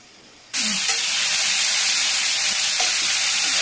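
Tomatoes fry in a hot pan for cucumber chutney. A loud, steady sizzle bursts in after a quiet moment and hisses on continuously, close up, with no voices.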